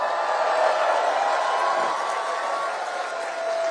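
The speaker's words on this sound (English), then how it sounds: "Give John a round of applause." An audience at a political rally in Etobicoke claps for John Nunziata, a dense, steady wash of applause from a crowd that fades slightly toward the end, with a voice faintly heard under it.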